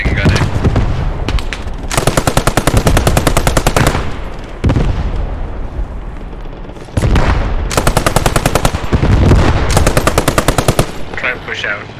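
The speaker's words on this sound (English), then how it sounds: "There's a machine gun." Long, loud bursts of machine gun fire in the World War II shooter Post Scriptum, rapid rattling strings of shots close by with brief gaps between bursts and a voice speaking under the gunfire.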